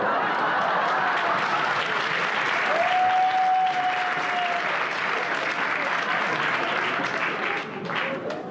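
Applause from the crowd at a 1990 comedy stage show by Vincent Lagaf', a sustained, even roar of clapping that carries throughout and eases slightly near the end.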